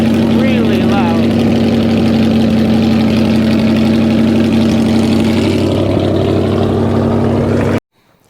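A loud truck engine idles steadily with a deep, constant drone and a strong low hum, continuing unbroken for most of the stretch before cutting off abruptly near the end.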